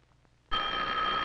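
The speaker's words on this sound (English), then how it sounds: "how does the sound of the electric bell travel to our ears?" An electric bell starts abruptly after a brief quiet moment and rings loudly and continuously with a bright metallic buzz, heard alone and close.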